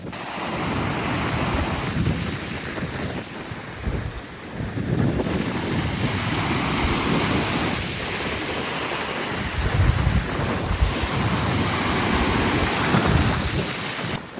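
Strong wind buffets the microphone on Seaford Pier by the sea, with a continuous roar and gusts that swell and fade, and waves likely beneath it.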